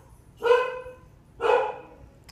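A dog barks twice indoors, two separate fairly loud barks about a second apart, with no other sound in between.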